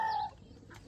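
A pigeon gives one short, low coo close by, the kind heard while pigeons are fed grain. Faint chirps follow in a quiet outdoor setting.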